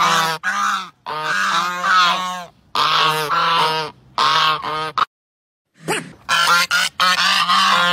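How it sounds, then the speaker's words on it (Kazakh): A domestic goose gives loud, drawn-out honks in a series of long calls with brief pauses between them, close and clear with no other sounds. "Бұл қаз. Үлкен үй құсы. Қатты және ұзақ шақырады."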